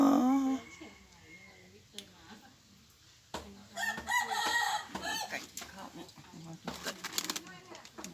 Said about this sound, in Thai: นั่นอะไรอ่ะไก่